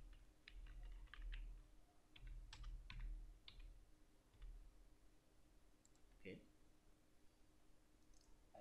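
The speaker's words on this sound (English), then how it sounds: "Type your password" A password is typed on a computer keyboard, a short cluster of light, close key clicks in the first few seconds followed by a few sparse taps, faint against low room hum.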